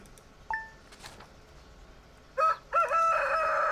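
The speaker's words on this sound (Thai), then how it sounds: "โอ้ ไก่ขัน" A rooster crows in the Stardew Valley farming game: a couple of brief chirps first, then a loud, bright cock-a-doodle-doo in two rising bursts that ends the clip, with no talk.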